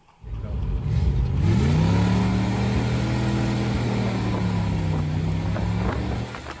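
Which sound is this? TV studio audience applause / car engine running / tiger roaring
car engine running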